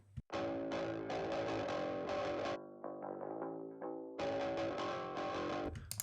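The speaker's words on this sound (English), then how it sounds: "adding a lot of distortion there" Heavy distortion on the isolated middle frequency band of a punk rock mix, crunchy saturated guitar chords ringing in bursts, broken by a quieter picked passage before the full chords return.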